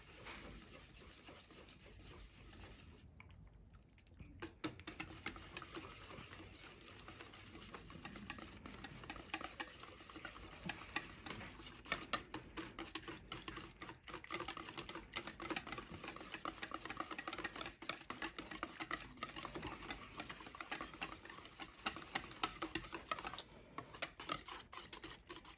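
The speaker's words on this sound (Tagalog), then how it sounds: "Walang katapusang paghahalo." Sweet potato pieces stirred without pause in a pan, a faint steady scraping and rubbing of the spoon that repeats in a loose rhythm and never stops.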